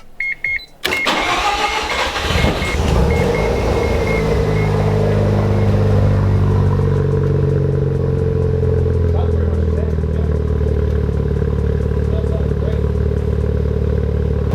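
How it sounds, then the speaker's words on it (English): A Mazda RX-7 FD3S rotary engine starts after a Pettit Racing catted midpipe has been fitted. A starter click leads into a loud, steady, close idle rumble that stays constant, and someone speaks briefly at the start. "We can start the car. Cool. See how it sounds."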